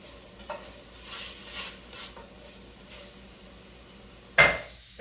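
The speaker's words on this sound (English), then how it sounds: "Give that a quick stir." Long grain rice being stirred into a sautéed soup base in a pot: a few soft scraping strokes under a faint sizzle, ending with one sharp metallic clank of utensil against pot.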